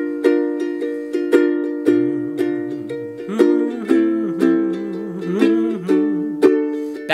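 Ukulele strumming the bridge of a song. Bright, evenly spaced chords ring out and change every beat, and a low wavering hum runs under the middle of the phrase.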